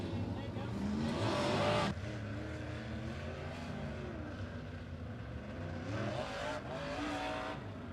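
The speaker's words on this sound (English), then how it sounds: "A Modifieds making their way onto the track right now." Modified race cars rolling onto the track at Monett Motor Speedway, their engines roaring and rising in passes, with a public-address voice talking over the cars throughout.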